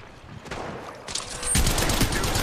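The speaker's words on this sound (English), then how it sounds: "Shots fired and they're hitting me" Bursts of gunfire from the mobile battle-royale game Apex Legends Mobile, loud, dense and steady, growing heavier in the second half of the short burst.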